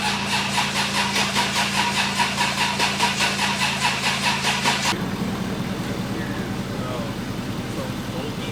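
An LS-swapped first-generation car idles with a steady rhythmic pulse for a few seconds, then cuts to a rougher, broadband running sound, close and loud, with people talking around it.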